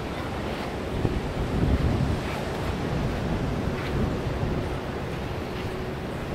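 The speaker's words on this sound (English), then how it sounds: "We're at the beach." Surf and wind at a San Diego beach, a steady wash of breaking waves with continuous wind noise buffeting the microphone, fairly loud and unbroken, with no voices.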